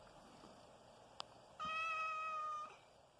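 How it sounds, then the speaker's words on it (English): A pet cat gives a single clear meow of about a second, close to the microphone in an otherwise quiet room. "Sadie, you're a cat. Quiet. Meow yourself"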